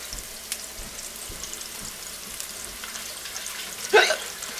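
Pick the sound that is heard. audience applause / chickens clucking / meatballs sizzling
meatballs sizzling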